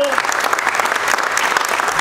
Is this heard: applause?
yes